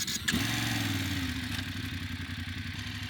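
A motorcycle stuck in beach sand at Madhavpur Beach in Gujarat revs hard with a close, loud, throbbing engine note and a rising pitch under strain, accompanied by a sharp clatter at the start.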